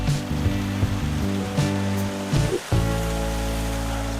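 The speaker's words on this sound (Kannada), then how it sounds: "ಈ ತರ ಇಲ್ಲಿ ಸಿಕ್ಕಾಪಟ್ಟೆ ಫಾಲ್ಸ್ ಇರುತ್ತೆ." A mountain waterfall on the Kedarnath trek splashes in a steady rush, overlaid by a low droning hum that briefly dips and returns.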